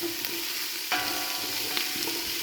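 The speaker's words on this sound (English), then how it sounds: "So as the onions and stuff are sweating" Onions and vegetables sweat in a soup pot for a lentil veggie soup, giving a steady soft sizzle with a few sharp clicks and scrapes of stirring, close up and without talk.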